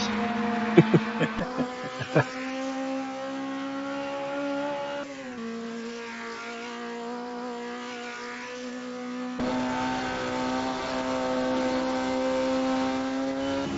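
F1 race car engines in the Automobilista 2 racing game, a sustained high engine drone with shifting pitch as cars pass and change gear, several sharp bursts near the start, no talk.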